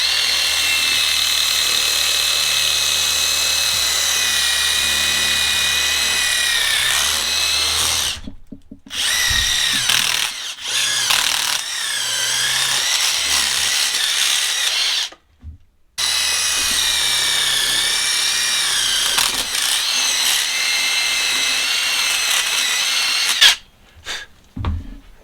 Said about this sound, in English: Drill out this hole.